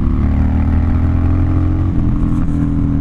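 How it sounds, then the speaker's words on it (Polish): A 2014 Harley-Davidson Dyna Street Bob idles with a deep, bassy exhaust rumble, loud and close. The throbbing is steady with slight revving fluctuations and no talk. "I wydechy bardzo słychać. Ten odgłos wydechów jest taki, bym powiedział, basowy."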